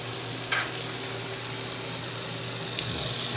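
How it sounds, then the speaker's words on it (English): Cold water gushes steadily from a bathroom tap into a basin, a loud continuous splashing rush with no pauses or talk. "Get some cold water going in here."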